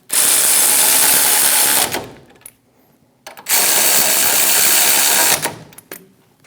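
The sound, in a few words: ratchet tightening caliper bracket bolts on Chevrolet Silverado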